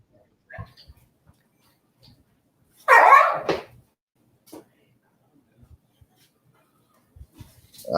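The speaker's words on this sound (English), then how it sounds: "Did I hear a dog? Yeah, that's one of my dogs." A dog barks in a short, loud burst partway through, with a few fainter yips and rustles around it in an otherwise quiet outdoor setting.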